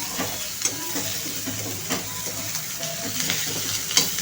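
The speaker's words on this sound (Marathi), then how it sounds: "कांदा एकदम ब्राऊन कलरवरती आपण भाजणार आहोत" Onions frying steadily in an iron kadai, browning for an egg curry gravy, with a continuous close sizzle and occasional scraping stirs.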